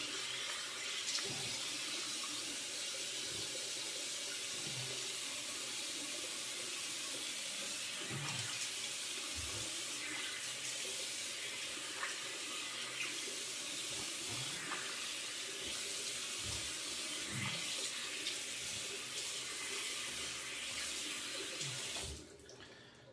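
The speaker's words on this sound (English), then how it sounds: "let me wash my face." Tap water runs steadily from a faucet into a sink as someone washes their face, with splashes and hand movements in the stream, then it cuts off near the end.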